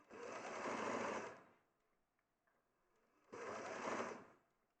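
A domestic sewing machine stitching fabric runs in two steady bursts, about a second and a half each, separated by a quiet pause. The motor hums loud and close and stands alone.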